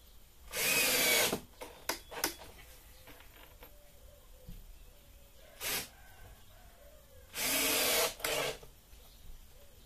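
A power drill drives screws into a wooden beehive bottom turned upside down, three loud whirring bursts with short pauses between, plus small clicks and knocks from handling the wood in between.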